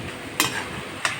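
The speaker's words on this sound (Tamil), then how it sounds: "இப்போ நம்ம ஃப்ரை பண்ணி வச்சுருக்கிறத இதில் மிக்ஸ் பண்ணிவிட்டு நல்லா துழவி விடுங்க." A spoon stirs roadside-style mushroom kalan gravy in a pan, giving two sharp scraping clacks against the metal over a soft, continuous simmering hiss.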